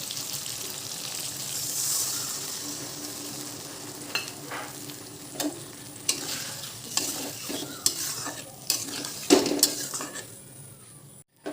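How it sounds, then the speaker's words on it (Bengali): Broth goes into a hot pan of vegetable curry, setting off a steady sizzle and bubbling while a spoon stirs and scrapes against the pan in close, repeated knocks, with no voices. "এর মধ্যে এখন দিয়ে দেব ঝোল।"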